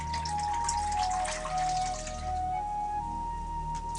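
Dissolved dye liquid is poured back into a cold bowl of dye for colouring a paper lantern, a steady close trickle and splash running throughout with no voices.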